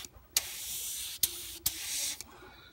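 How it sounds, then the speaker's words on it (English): An airbrush sprays paint onto a game miniature in short, close hissing bursts, three or four spurts separated by brief clicks and pauses. "some tight airbrushing."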